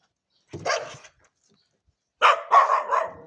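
A dog barks close by: one short bark, a pause of silence, then a quick run of three sharp barks, loud and clear with no talking.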